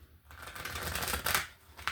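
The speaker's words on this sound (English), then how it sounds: "I don't know if I shuffled, but I'm shuffling again." A deck of tarot cards is shuffled by hand, giving a quiet, brief flutter of card riffling.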